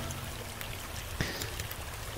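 Steady hiss of rain falling in Animal Crossing New Horizons on a mystery island, an even wash of pattering with one brief splashy tick, moderately loud and alone.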